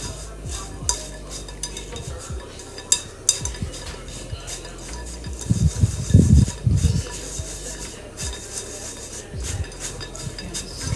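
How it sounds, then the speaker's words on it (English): Brown sugar is pushed through a sifter while making buttermilk biscuits: soft, close scraping and rubbing strokes come in uneven bursts, with one louder cluster of gritty grinding partway through. "Continuing to push my brown sugar through."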